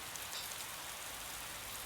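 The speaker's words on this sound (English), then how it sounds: "Under a rainy sky," Steady rain pouring in a video game scene, a continuous soft hiss of falling drops heard alone and fairly quiet throughout.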